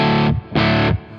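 A distorted electric guitar through a boost pedal plays two heavy chords, each held for about a third of a second, with a short gap between them and a quieter tail after the second.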